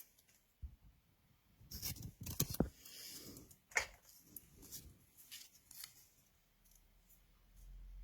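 Scissors snip through scraps of pattern paper at a desk in a quiet room, giving a few faint, crisp cuts with paper rustling and handling noises between them.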